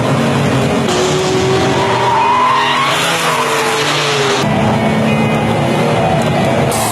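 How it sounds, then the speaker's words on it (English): A Ruf CTR Yellowbird from 1987, rated at 463 horsepower, drifts around the Nürburgring with loud, sustained tire squeal and skidding over a hard-working engine whose pitch rises and falls through the slides. "Just enjoy some clips of this thing drifting around the Nürburgring."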